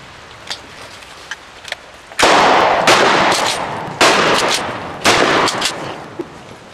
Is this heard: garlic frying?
no